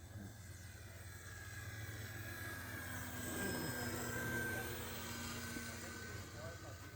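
An electric model airplane flying low past, a faint high whine that swells as it nears and fades again, heard over steady outdoor background noise.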